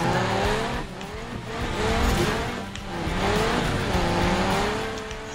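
A car's tires squeal and skid under a hard handbrake pull in Need for Speed 2015 while drifting, the engine note swelling and falling in loud, continuous waves.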